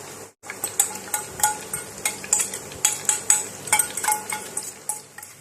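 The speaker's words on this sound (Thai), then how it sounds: "ที่เหลือจากการทอดไก่ของเรามาทอดกระเทียมต่อค่ะ" Garlic frying in leftover hot oil from frying chicken, with a strainer basket in the pan, sizzling steadily under repeated close metallic scrapes and taps of stirring.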